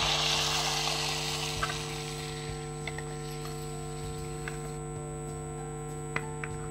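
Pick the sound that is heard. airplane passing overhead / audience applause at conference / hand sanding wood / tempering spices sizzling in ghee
tempering spices sizzling in ghee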